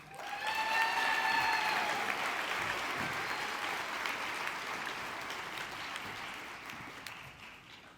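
A graduation audience claps in a dense, sustained round of applause, with a few whistles early on, then the clapping gradually thins toward the end.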